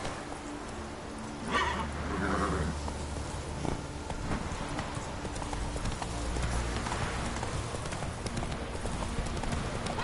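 In The Witcher 3, a horse's hooves clop rhythmically at a steady gallop under a constant rain-like hiss, with a few louder thumps along the way.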